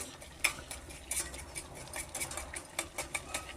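Powdered sugar and butter are stirred as they melt over steam for homemade chocolate, giving faint, close, irregular clinks and scrapes of a spoon against the bowl over a low background hum.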